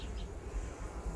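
Honey bees buzz around hive frames, a faint, soft, steady hum with a slight rise and fall, heard alone in quiet surroundings.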